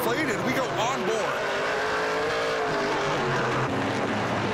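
A Ford Fusion stock car in the NASCAR Pinty's Series roars from an onboard camera, its engine loud and sustained with rising and falling revs as it is wrestled through the turns, with commentary voices over it.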